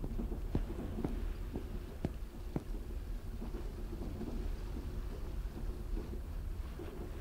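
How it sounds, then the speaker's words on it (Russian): Coastal water ambience on a video game ghost train: a steady wash of water noise under a rain-like hiss, with scattered sharp clicks and knocks throughout. "Хорошо, это прибрежные воды."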